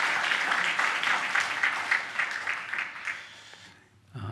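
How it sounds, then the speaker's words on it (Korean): A church congregation claps together in thanks, a close, lively burst of applause that holds steady for a few seconds, then thins and fades out near the end. "우리 박수로 한번 감사의 마음을 표하겠습니다"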